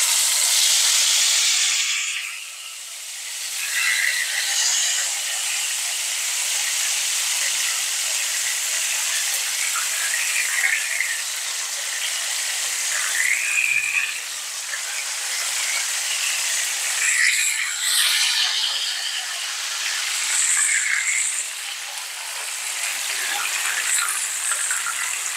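Chicken pieces sizzling in a pan on the stove, a steady bright hiss of frying with small crackles and pops that carries on without a break, dipping briefly once or twice before settling back to a constant sizzle.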